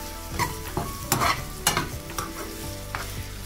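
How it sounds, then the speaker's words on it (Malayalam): Onions sautéed with shrimp masala in a pan, a constant sizzle broken by several sharp stirring scrapes and clanks of a spoon against the pan, close and alone without voices. "1 മിനിറ്റ് നേരം ഇതിലിട്ടിട്ടൊന്ന് വഴറ്റിയെടുക്കാം."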